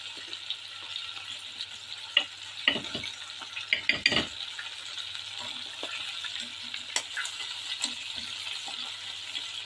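Steady hissing sizzle of two fish frying in hot oil, with occasional pops and spatters and a few clinks of a utensil.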